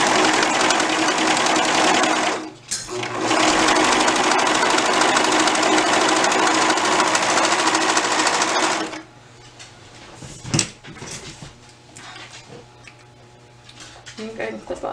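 A sewing machine chain piecing fabric while sewing undies runs in a long steady whir that stops briefly once and then ends, followed by quieter handling noises while someone talks.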